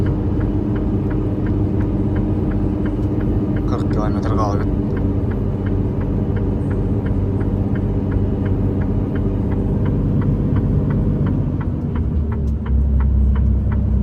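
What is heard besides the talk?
car engine straining while climbing a mountain road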